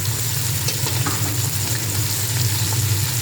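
Steamed meat pieces sizzling in hot oil with browned onions for kofta pulao, a dense continuous frying crackle with occasional stirring scrapes, close and steady.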